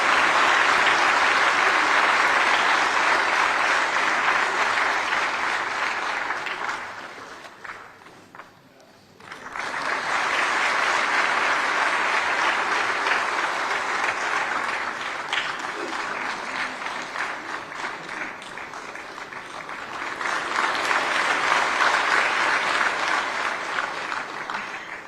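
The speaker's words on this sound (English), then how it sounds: "A big round of applause." A large audience at a formal government ceremony for National Energy Conservation Day gives sustained applause, dipping briefly partway through before swelling again in long, dense waves of clapping.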